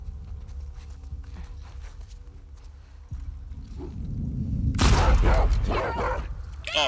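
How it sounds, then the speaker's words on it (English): A dog in The Last of Us Part II barks and yips in a burst of sharp, loud calls amid in-game movement and background ambience, preceded by quieter footsteps. "Oh, there's a dog right here."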